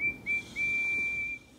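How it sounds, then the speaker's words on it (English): A steam tank engine's whistle sounds in short toots and then one long sustained blast near a smelter's yard, clear and steady over a low background rumble. "He whistled hello to Arry and Bert"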